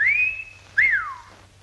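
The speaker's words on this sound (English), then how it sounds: "the emission of a whistling sound, vulgarly known as the call of the wolf, perpetrated by puckering the lips and expelling the sound thusly" A person whistles through puckered lips in a classic two-part wolf whistle: a long rising-then-level note, a short pause, then a second swooping note that falls away, close and clear with no talking.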